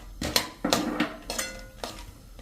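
Peanuts stir in hot oil in a pan for a tempering step, giving a series of sharp metallic scrapes and clinks in an uneven rhythm, fairly quiet and close, with no voices.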